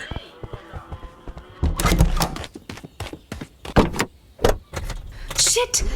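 A car door thunks shut and someone gets into the car, with sharp bangs and rustling close by, mixed with power-window whirs and jangling keys while a person speaks.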